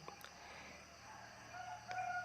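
A rooster crows around four in the morning, faint and distant over a low, steady background hum, with one short call standing out near the end and no talking.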